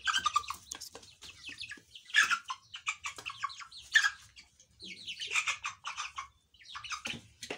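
A young chicken, raised as a broiler and sounding like a rooster, gives repeated squawks and clucks in short bursts with gaps between, fairly close and alone.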